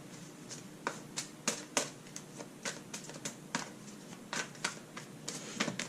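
Quiet, irregular snaps and riffles of a deck of tarot cards being shuffled close by, with uneven flicks over a soft background.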